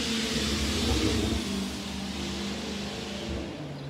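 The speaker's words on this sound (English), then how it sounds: "that vehicle is like an SUV. That was like a newer Jeep Cherokee." A newer Jeep Cherokee SUV revs its engine, a steady mid-pitched roar that swells early and then holds at a constant drone for a few seconds, fairly close and with no talking.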